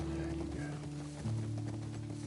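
A horse in The Last of Us Part II clip-clops along in steady hoofbeats, muffled and low beneath a droning background tone, while a person talks over it.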